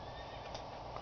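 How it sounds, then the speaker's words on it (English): Horses neigh in the Trainz 2 railway simulator game, a short, faint whinny with clip-clopping hooves, brief and without talking. "Ah, shut up, horses."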